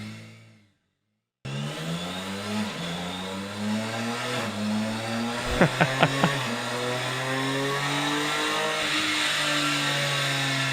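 A BMW M motorcycle engine, heard as a played-back recording, catches after a brief silence and then holds a steady, loud, buzzing idle. It gives a few quick rising revs midway before settling into a sustained drone.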